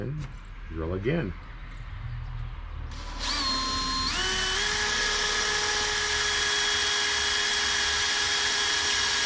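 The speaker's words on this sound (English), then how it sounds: "And drill again." A power drill whines up to a high, steady pitch and keeps running continuously after a few seconds of quieter handling noises, drilling a custom Segway windshield.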